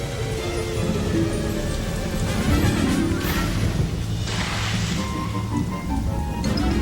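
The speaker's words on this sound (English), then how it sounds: "Rain pounded the earth." Heavy rain pours down in a steady, dense roar, loud and close, with a brief swell of crashing noise partway through.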